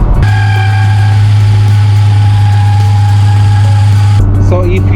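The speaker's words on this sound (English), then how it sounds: "So if you ever have a sound like that, it's most likely the pulley on your compressor" A faulty A/C compressor pulley on an Infiniti G37 sedan whines loudly over the running engine, giving a steady tonal drone with a harsh rattle underneath. The noise shifts near the end.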